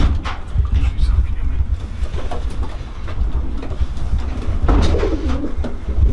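Pigeons coo and flutter in a racing pigeon loft in a garden, with soft rolling coos and rustling throughout, some background rumble, and people talking in the space.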